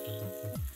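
King fish pieces frying on a hot tawa give a short, steady sizzle with a low humming tone underneath, close and fairly quiet, with no voices.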